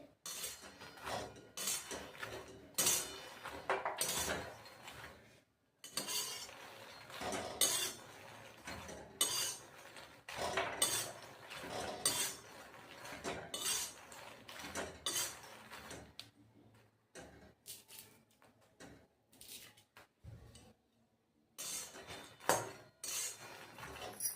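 Fox nuts (makhana) are roasted dry in a pan and stirred constantly, giving rattling scrapes and metallic clinks of a spoon in bursts with short pauses, close and fairly quiet.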